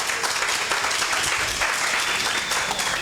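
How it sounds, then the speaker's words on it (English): A steady wash of applause from a sizable crowd, continuous and fairly loud throughout, with no pauses or voices standing out. "So let's give him a round of applause."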